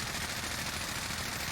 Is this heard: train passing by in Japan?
no